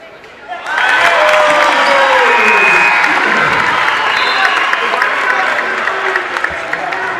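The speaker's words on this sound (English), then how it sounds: "let's give the people back home a chance to listen to this crowd" Home crowd at a Wheaton college basketball game on senior night bursts into loud, sustained cheering and applause near the final seconds of the season's last game, swelling suddenly and holding with scattered shouts.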